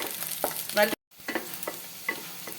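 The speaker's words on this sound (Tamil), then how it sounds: "இந்த சமயத்தில் நான் வந்து பூண்டை சேர்த்துக்கிறேன் சேர்த்துட்டு நல்ல வாசனை வர்ற வரைக்கும் நல்லா நம்ம வந்து வறுத்துக்கலாம்" Garlic fries in hot oil for a garlic lentil spice powder, close sizzling with repeated stirring scrapes and a brief cut to silence partway through.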